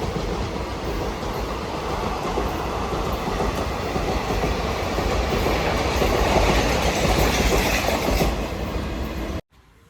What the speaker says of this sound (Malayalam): ആലപ്പുഴ കണ്ണൂർ എക്സിക്യൂട്ടീവ് ആണ് പോകുന്നത്.